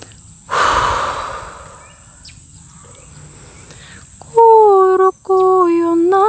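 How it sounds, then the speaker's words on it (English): A single deep breath drawn in and let out close to the microphone, a soft rushing sound that fades before a voice begins a sustained, tonal vocalization. "Take a deep breath."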